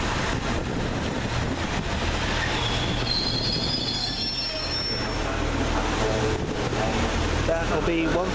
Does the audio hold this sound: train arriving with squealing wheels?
yes